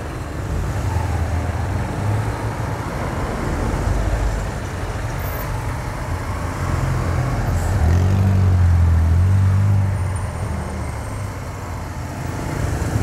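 Busy city traffic of cars and motorbikes crowds onto a one-way street in Natal's north zone. A continuous, loud roadway roar comes through, with a heavier vehicle's low drone swelling midway and no voices.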